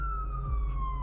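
A police car siren sounds as one steady, slowly falling wail over low road rumble and bass, moderately loud but brief.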